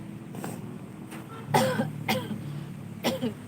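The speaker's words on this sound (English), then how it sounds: "it's my cold, it's my cough" A few sharp coughs from a person with a cold, close and distinct, come in quick bursts with short pauses between them.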